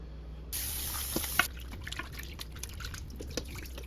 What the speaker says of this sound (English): Then I'm gonna add some warm water.